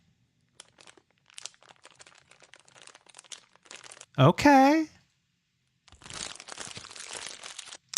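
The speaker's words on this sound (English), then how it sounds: "How about crunching plastic?" Crunching plastic used as a game sound effect: a short, loud burst of crackling crinkles after a stretch of quieter rustling, followed by more scattered crinkly handling noise, with a brief spoken word.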